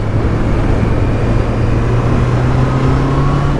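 Honda CB650R E-Clutch 2024 with a four-cylinder engine, roaring loud and close in a steady, even drone whose pitch slowly rises, with no voices.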